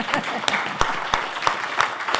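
A summit audience claps in a brief, fairly regular burst, the individual hand claps standing out as distinct sharp beats rather than a dense wash.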